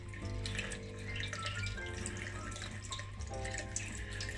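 Gentle tap water runs into a sink as a piece of driftwood covered in Java moss is rinsed under it, giving a steady splashing stream with small irregular drips and gurgles.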